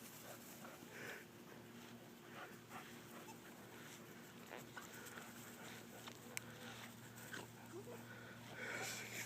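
A puppy snuffles and pants softly up close, with quiet breathy sniffs and faint patters over a low, steady indoor hum.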